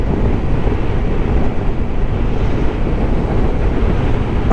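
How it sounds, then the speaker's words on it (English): Strong wind roars over the microphone during a ride on a 2016 Suzuki GSX-R750 motorcycle, a loud continuous rumbling buffet with no clear engine note or voices. "It's very windy."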